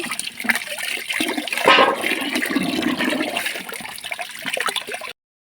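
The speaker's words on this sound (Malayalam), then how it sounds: "കപ്പ മുറിച്ചിട്ട് നമുക്ക് കഴുകാം കേട്ടോ നന്നായിട്ട് കഴുകണം" Cut tapioca being rinsed in water, which sloshes and gurgles steadily for several seconds, splashing loudly nearby, then stops abruptly.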